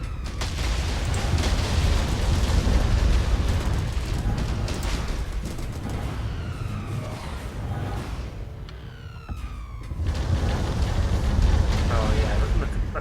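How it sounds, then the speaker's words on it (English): Space fleets trade cannon fire in the strategy game Star Drive with the Combined Arms mod: dense, continuous booms and rumbling blasts with sweeping zaps, loud and unbroken throughout. "Oh yeah, look at that cannon fire."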